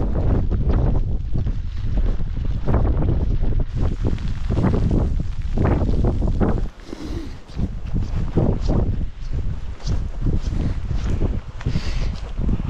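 Strong wind roars and buffets the microphone while hail and rain patter hard and steadily in Kyrgyzstan, with a brief lull midway.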